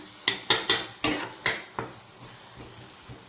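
Masala for palak paneer stirred in a pan: a quick run of sharp metallic spatula clinks and scrapes, close and fairly loud, fading out after a couple of seconds over a faint sizzle, with no talking.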